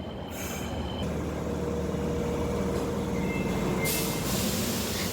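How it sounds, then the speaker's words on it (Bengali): A train pulls into a station in Fukuoka, Japan, with a continuous rolling rumble and faint high wheel or brake squeals rising near the end. No one talks. "ওই যে এই যে এই যে এই যে আমাদের ট্রেন চলে আসছে।"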